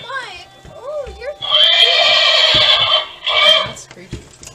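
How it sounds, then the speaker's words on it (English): A horse whinnies loudly and close, two long wavering neighs with short pauses between, plus a light clop and a few soft sounds around them. "It's a ghost horse."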